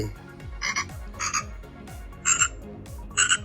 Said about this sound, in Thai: มีเสียงกบหลายเยอะเลย